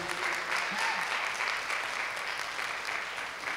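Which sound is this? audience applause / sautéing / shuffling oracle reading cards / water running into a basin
audience applause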